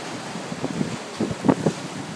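Ocean waves wash over a rocky stretch of shore at Baía Formosa on the coast of Rio Grande do Norte, a steady windy rush with soft surges swelling and breaking nearby.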